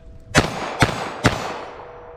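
Three sharp, close handgun shots, .22 Magnum CCI Maxi-Mag rounds fired in quick succession about half a second apart, each with a brief ringing decay outdoors.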